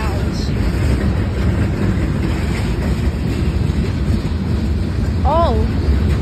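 A CSX northbound manifest freight train rolls past close by with a steady, loud rumble of rail cars and wind buffeting the microphone, plus a brief high horn-like squeal near the end.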